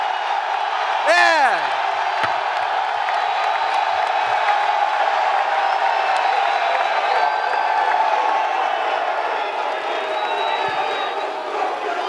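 A large press conference crowd at a UFC 298 event cheers and roars continuously, with a sharp whoop near the start and a single voice calling out.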